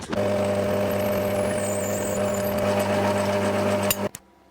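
A centre drill cuts into metal, pre-drilling a 3.3mm hole for an M4 tap, with a steady, close machine hum for about four seconds, then the motor stops abruptly.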